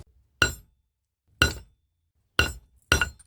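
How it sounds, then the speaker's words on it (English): An old carpenter hammer striking a 925 silver feather pendant during jewelry making, four sharp metallic clinks spaced about a second apart, close and loud, each ringing briefly before silence. "we're going to have to use the carpenter hammer for this boom"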